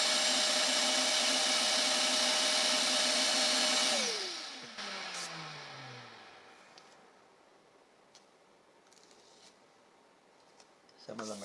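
A vacuum cleaner sucks loose steel wool fibers off the frets of a Stratocaster guitar, running loud and whiny for a few seconds before it is switched off and its motor winds down, leaving quiet handling noises.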